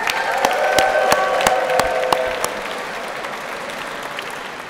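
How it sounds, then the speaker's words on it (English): Rally audience applauding and cheering together, loud dense clapping with sharp whoops in the first half, then thinning into steadier, softer applause toward the end. "would you make some noise and cheer this morning?"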